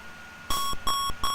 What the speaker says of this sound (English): I do remember that little beep